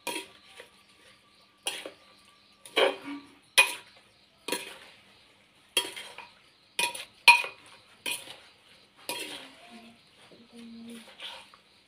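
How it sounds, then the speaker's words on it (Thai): Shrimp, both fresh and blanched, is tossed with vegetables in a bowl, making a series of sharp, separate clinks and scrapes from a utensil against the dish, spaced irregularly with quiet gaps between. "ตอนนี้เราก็คนให้เข้ากันเลยนะคะทั้งกุ้งทั้งผักทั้งสายนะคะ"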